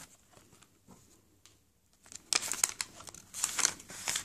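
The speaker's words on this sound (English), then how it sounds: "I love how crinkly that sounds." Crinkly dictionary page being handled close by, quiet rustles at first, then louder bursts of crackling and crumpling in the second half.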